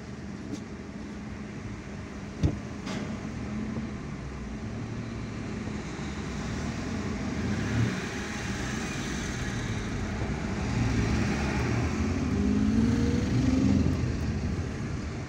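Road traffic moving through a crossroads in Algiers, a steady broadband rumble of car and bus engines with a sharp knock near the start, swelling louder toward the end.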